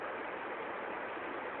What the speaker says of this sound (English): And that sound is the running water.